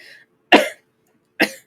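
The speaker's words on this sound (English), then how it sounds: "I just coughed." A person coughs twice, close by, with a short quiet pause between the two sharp coughs.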